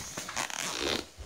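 A zipper on a cornet case is drawn open in one quick, close pull, soft and brief with a light rasping texture.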